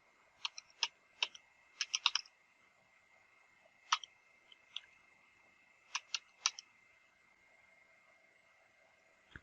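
Someone types database login details on a computer keyboard, producing faint, scattered clicks in short bursts separated by quiet pauses in an otherwise silent room.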